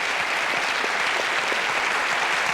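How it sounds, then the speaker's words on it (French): Comedy show audience applauding in a hall, a loud, even, continuous roar of many hands clapping without a break. "On l'applaudit"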